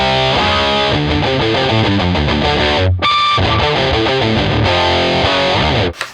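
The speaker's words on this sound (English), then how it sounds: "I switch over to my overdrive distortion that's kind of leaning more towards the distortion side of things" Electric guitar through an overdrive distortion pedal plays a fast riff from a song's pre-chorus, loud and saturated with rapidly changing notes, a brief cut near the middle and an abrupt stop at the end.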